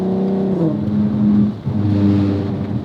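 Customized black VW Golf MK5 R32's VR6 engine running close by, revving up and settling back with a rising-then-falling tone, smooth and loud throughout without talk.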